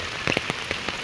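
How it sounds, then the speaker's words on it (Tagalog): Steady rain falling without pause, a dense hiss of drops on surfaces with a few sharper patters and drips standing out, heard alone. "At talaga namang walang humpay ang ulan."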